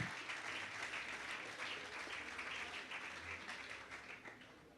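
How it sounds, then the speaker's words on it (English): An audience at the Reggae University 2008 Rodigan salute applauds, a soft, distant-sounding sustained wash of many clapping hands that keeps an even level throughout. "another applause, please"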